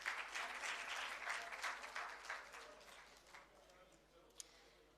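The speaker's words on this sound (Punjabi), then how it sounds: "ਢੇਰ ਸਾਰੀਆਂ ਤਾਲੀਆਂ।" Audience applause in a conference hall at an international Punjabi conference, a sustained wave of clapping that swells and then fades over several seconds, heard from a distance.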